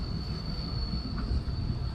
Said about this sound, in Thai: อันนี้แม่นรถไฟกระเจ้ากำลังเดินทางไปเนาะ